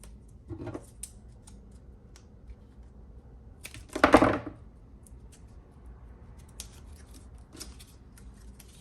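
Scissors snip a slanted cut in paper or card while assembling a shaker cake topper, giving a few short crisp clicks and one louder crunching cut in the middle, close and otherwise quiet.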